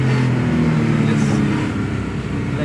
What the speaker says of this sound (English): let you listen to that beautiful engine.